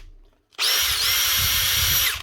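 A Makita DHP484 cordless drill in drill mode starts after a brief silence and runs loud and close with a steady high motor whine, its pitch dipping and rising slightly with the trigger.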